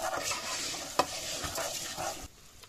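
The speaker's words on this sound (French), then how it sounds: "je vais tourner et le faire devenir translucide en fait, pour qu'il boive un petit peu l'huile" Risotto rice being stirred in hot oil in a pan: close scraping strokes with a sharp clink near the start over a light sizzle, fading to near quiet at the end.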